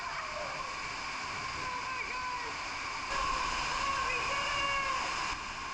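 Churning water of man-made rapids on a water park river ride at Atlantis Bahamas, a steady close rushing wash that swells louder midway through.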